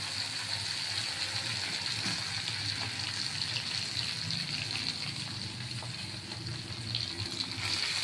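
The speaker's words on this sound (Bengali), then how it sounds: "এই তেলের মধ্যে আমি আলুগুলো ছেড়ে দিলাম" Potatoes fry in the oil left over after frying pomfret, a continuous soft hiss and bubbling close by that holds at an even level with no talk over it.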